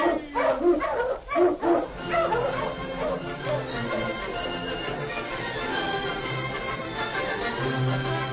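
A husky dog in an old-time radio drama barks and yips several times in quick succession near the start, then the barking gives way to a wash of background sound and music.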